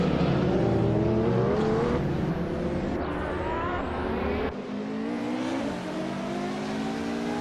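Several race cars launch from the start line in a racing video game on the Rio de Janeiro mini track, engines revving loudly and continuously with rising, overlapping whines as they accelerate away, with no talk.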